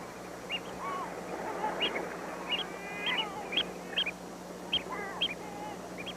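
Oystercatchers on an open shore near sandbanks and mussel beds, giving short piping calls scattered at intervals over a steady, rough background wash of wind and water, moderately distant.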